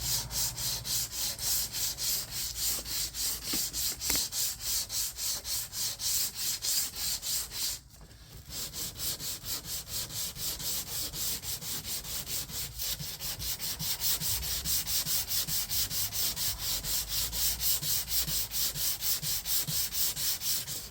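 Steady hand sanding on rust repair bodywork of a 2018 Ford Escape, a continuous rhythmic rubbing scratch with rapid back-and-forth strokes, close up, briefly pausing near the middle before resuming.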